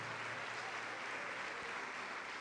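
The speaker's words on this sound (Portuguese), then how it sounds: "Vamos aplaudir ao Senhor Jesus." A church congregation applauds in a steady, even wash of clapping that fills the room, faint and continuous without breaks.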